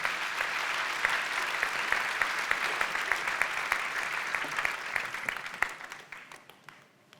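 Church congregation applauding during a Christmas Eve celebration, a steady sustained round of clapping from many hands that fades out toward the end.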